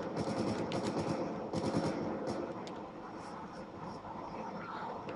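Enemy gunfire in the Dead Space 3 video game, rapid bursts of shots crackling in quick succession over a dense, rumbling game soundscape, loud and close, with a voice murmuring faintly beneath.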